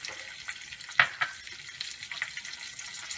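Hing (asafoetida) and turmeric dropped into hot oil, a soft steady sizzle with one sharp crackling burst near the start and a few smaller pops, fairly faint and close.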